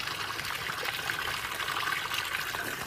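Spring water from Red Rock Spring runs steadily into a container, a continuous close trickling and pouring hiss with no voices over it.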